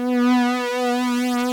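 A sustained note from the Serum synthesizer with hyper and dimension expander effects switched on, a bright, harmonically rich tone held steadily alone for just over a second with slight wavering width.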